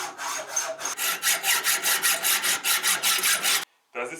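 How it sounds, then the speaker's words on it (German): A hand saw cuts through wood in steady, rhythmic strokes, about a dozen rasping pulls and pushes, loud and close, then stops abruptly. "wir sägen nur den Abfall runter"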